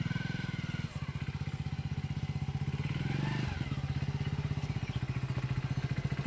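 A motorcycle engine chugs at a steady idle with rapid regular pulses close by, rising slightly midway as it revs, with faint voices in the background.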